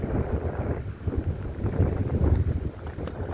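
Wind buffets the microphone in a steady low rumble, gusting slightly stronger midway through, with no voices.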